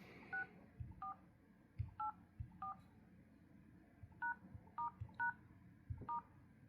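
Touch-tone dialing beeps from a Redmi Note 12 Pro smartphone as a code is keyed into the phone app, about a dozen short, evenly spaced tones, close and clear over faint background noise.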